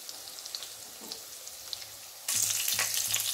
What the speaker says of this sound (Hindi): एक चम्मच जितना मैं लूंगी इसमें जीरा, सबको तड़कने देंगे अच्छे से